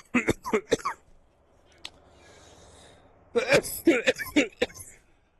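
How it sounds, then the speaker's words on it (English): A burst of several sharp coughs, then a quiet pause, then another cluster of harsh coughs, loud and close. "sorry about the cough"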